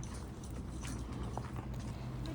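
Horses walking along a trail beside the Bow River in Banff, with steady clip-clop hoofbeats blending into a continuous outdoor background and a few faint clicks of tack.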